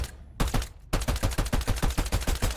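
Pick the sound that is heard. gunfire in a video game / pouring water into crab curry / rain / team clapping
gunfire in a video game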